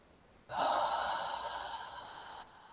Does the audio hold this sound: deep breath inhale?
yes